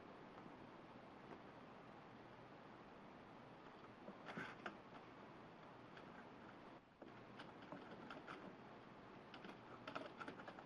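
Faint keyboard typing on a computer, a steady patter of soft clicks running through the whole stretch with occasional louder bursts, no talk.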